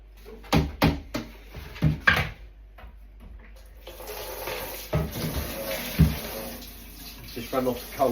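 Cold water running from a tap into a washing-up bowl, a steady splashing flow that builds partway through, with a few knocks and light clatter early on and a voice speaking briefly.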